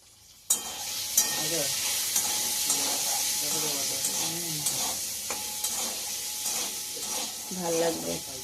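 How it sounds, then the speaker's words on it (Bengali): Jackfruit seeds fry in a pan with a constant loud sizzle. A spoon stirs and taps against the pan now and then, and a voice speaks intermittently underneath. "তোমরা কাঁঠাল একটু ভাজা খাও?"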